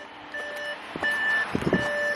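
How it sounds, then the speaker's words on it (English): Audi S8 D4 warning beeps from the car itself while its suspension is raised, sounding as repeated steady electronic tones in three spaced bursts, fairly loud and close, with some mechanical clunks near the end. "Car just bleeping right at me."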